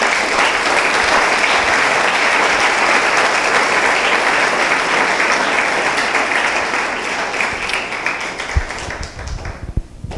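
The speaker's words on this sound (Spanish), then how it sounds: "Démosle un aplauso al Señor" A church congregation applauds, a dense and loud wash of clapping that holds steady before thinning and tapering off near the end, with a few scattered claps and knocks as it dies away.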